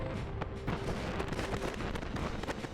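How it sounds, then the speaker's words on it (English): Repeated fireworks bursts pop and crackle nonstop around a town in Final Fantasy XI, a dense, steady stream of small booms with game music tones running underneath and no voices. "I like these fireworks,"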